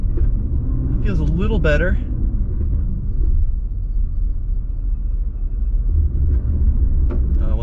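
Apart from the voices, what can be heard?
2023 SUV in snow mode, wheels spinning on rollers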